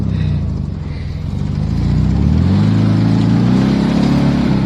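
A VW Fastback spins its wheels while driving in snow, the engine rising to a strained, steady rev that climbs in pitch, close and loud with no talking.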